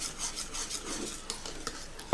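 A spoon stirs gelatin into hot lemon cake filling in a bowl, making soft, close scraping and rubbing strokes in a quick repeating rhythm, with a faint clink at the very end.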